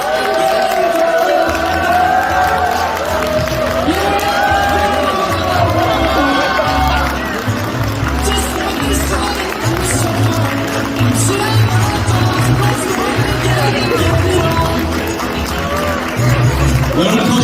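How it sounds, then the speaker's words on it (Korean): Wedding guests clap and cheer as the groom makes his entrance, a steady, loud crowd roar of applause and shouts with music playing underneath throughout. "우리 신랑이 멋지게 입장할 수 있도록 여러분의 뜨거운 박수와 아낌없는 환호를 부탁드리겠습니다"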